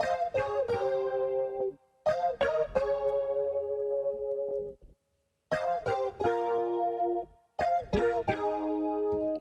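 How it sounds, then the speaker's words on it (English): Clean Telecaster electric guitars, bussed together, strum ringing chords in bursts, each chord sustaining and fading before the next, with brief silent gaps between phrases. "I've got these Telecaster guitars all bussed together onto one track,"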